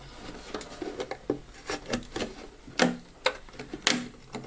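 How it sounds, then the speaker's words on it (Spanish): Utility knife cutting into a plastic bottle, giving a series of close, sharp crackling snips and scrapes in an uneven rhythm, with no talking. "Voy a iniciarlo con cúter y luego ya se perfilará la misma con tijera, de forma más fina."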